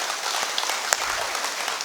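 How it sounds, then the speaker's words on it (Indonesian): Audience applause at an indoor Indonesian talk event, a steady dense patter of many hands clapping throughout, moderately loud with no talk over it. "Kita kasih tepuk tangan yang meriah untuk hari ini."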